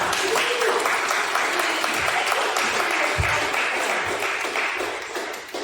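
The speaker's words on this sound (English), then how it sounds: "Let's give him another round of applause." An investment mixer audience applauding, a dense, steady wash of many hands clapping that carries on for several seconds before easing off slightly at the end.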